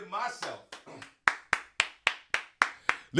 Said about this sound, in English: give myself a round of applause for that